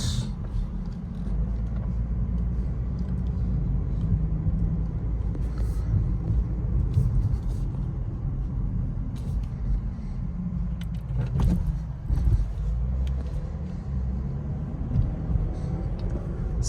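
A 2023 Lexus IS300 drives in sport mode, heard from inside the cabin as a steady low road and engine rumble with faint rattles and clicks and a brief bump partway through.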